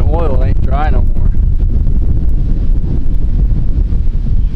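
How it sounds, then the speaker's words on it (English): Strong wind buffeting a microphone outdoors on a dry enduro riding trail, a steady loud low rumble throughout, with a brief voice at the start. "The wind's blowing."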